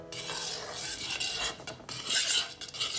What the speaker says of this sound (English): So we're gonna mix this up.